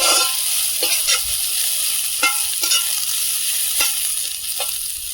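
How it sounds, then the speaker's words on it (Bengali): Thankuni leaves frying in a pan for a fish curry, a steady loud sizzle with several sharp scraping strokes of a spatula stirring at irregular intervals. "থানকুনি পাতা দিয়ে বেশি ভাজবো না"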